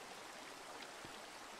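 Gentle flowing water from a stream in a Minecraft cave area, a soft steady trickling wash that runs quietly and continuously at low level with no voices.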